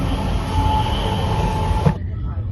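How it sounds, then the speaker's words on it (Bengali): Express train rushing at high speed, a loud, steady rumbling roar with rattling and a constant hum, cutting off abruptly near the end. "আমাদের ট্রেন এখন 129-30 কিলোমিটার পার আওয়ার স্পিডে বেগে ছুটে চলেছে।"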